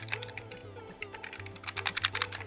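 Keys click on a small homemade emoji macro keyboard, a quick run of sharp taps that speeds into a dense flurry toward the end, close and crisp, with no speech.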